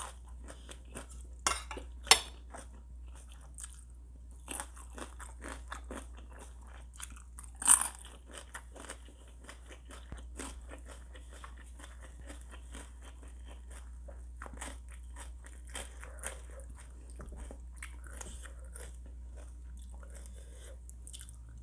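Fresh roselle leaves bitten and chewed up close during an eating show, with intermittent crisp bites and crunches followed by long stretches of quieter, moist chewing.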